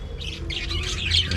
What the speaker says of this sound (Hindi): इसमें कई प्रकार के छोटी छोटी चिड़ियाएँ हैं, रंग बिरंगी, नीली पीली।